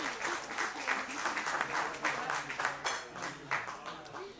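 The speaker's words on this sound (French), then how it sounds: "Bravo à vous, vous pouvez vous applaudir." Audience applause at a live show in a café, steady clapping from a room of people with a few voices mixed in.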